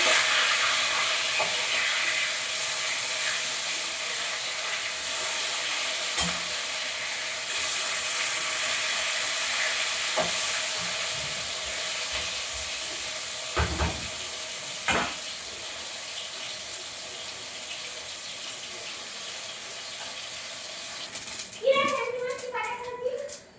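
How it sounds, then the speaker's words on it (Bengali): Fish fries in oil in a pan with a steady, dense sizzle throughout, broken by a few clattering turns and scrapes, with a voice speaking briefly near the end. "দেখো বন্ধুরা মাছটা উল্টে দিচ্ছি"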